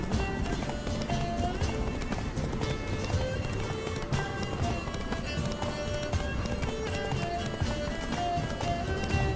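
A horse gallops in The Witcher 3, a steady rhythmic clatter of hooves over game music and ambience, with a whinny and someone talking over it.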